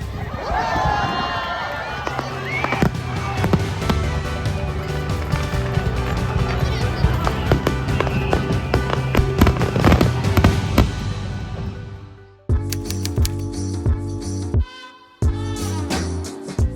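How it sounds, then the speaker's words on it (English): A fireworks show in Okinawa with continuous crackling bursts and booming explosions, dense and loud, easing briefly before more sharp pops; crowd noise blends underneath. "We had no idea where the fireworks would shoot out"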